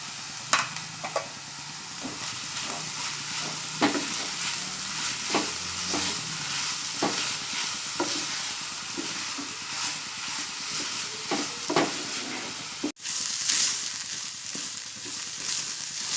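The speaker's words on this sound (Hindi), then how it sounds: "अब मैं इसमें चिकन मिक्स करूंगी।" Chicken for cutlets is mixed and stir-fried in a pan under a continuous close sizzle. Frequent spatula scrapes and knocks fall at an irregular pace, with a brief louder clatter near the end.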